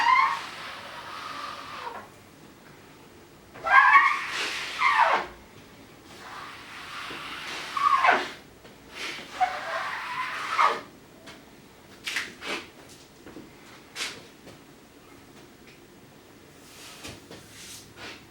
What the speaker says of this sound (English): I've got a car squeegee, so I'm going to try and leave some of this on the table and squeegee off.